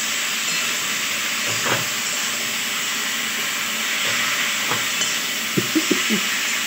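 Tomatoes fry in a hot pan with a continuous loud sizzling hiss, broken by a few soft clinks and scrapes of stirring toward the end, and no one speaking.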